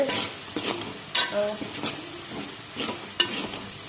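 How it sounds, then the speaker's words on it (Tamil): Onion, tomato, green chili and curry leaves sauté in a hot pan, a steady sizzle broken by repeated scraping stirs of a spoon against the metal, with no talking. "வெங்காயம் தக்காளி பச்சை மிளகா கருவேப்பிலை எல்லாம் போட்டு வதக்கியாச்சு"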